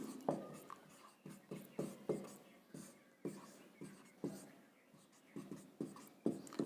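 A pen scratches out a handwritten note in quick, rhythmic strokes, close but faint, with short pauses between words and no talking.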